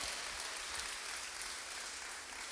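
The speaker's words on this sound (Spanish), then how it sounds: "Dale palmas fuerte al Señor" Church congregation clapping hands during a Spanish-language sermon, a steady dense wash of many palms applauding without pause, fairly distant and even in loudness throughout.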